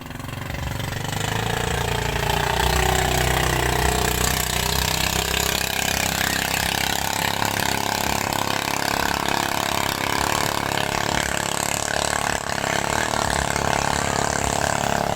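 A motorboat engine on an outing to a beach rises from quiet into a loud, steady droning idle that chugs on without pause.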